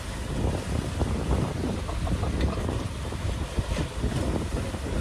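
Wind rushing over a sailboat underway, a loud, steady buffeting roar of wind on the microphone with a low rumble of water and hull beneath it.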